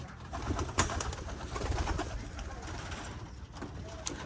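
Pigeons coo and flutter at close range in a cluttered breeder cage, with scraping, rustling and a sharp knock near the start.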